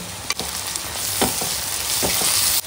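Onions fry in hot oil for a coriander chicken curry as turmeric and chili powder go in, making a dense, close sizzle broken by a few brief stirring scrapes.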